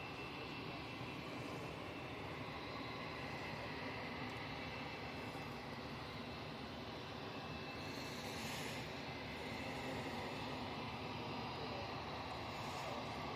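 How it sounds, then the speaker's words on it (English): Airliner passing overhead near Manchester Airport, a steady broad roar sustained throughout, fairly distant and unseen, with a faint voice occasionally under it. "I can hear a plane above us, but I can't see it."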